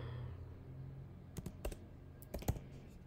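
Typing on a computer keyboard while coding a web page, a few scattered clusters of sharp key clicks over a quiet room hum, close and alone.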